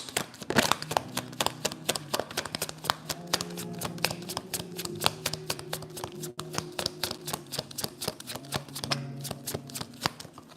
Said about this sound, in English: I'll pull more cards on the dynamic in a moment.